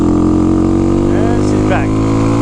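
A small Honda engine runs loud and close with a steady low drone, and its pitch wavers as it bogs down under load. A brief voice-like sweep is heard partway through.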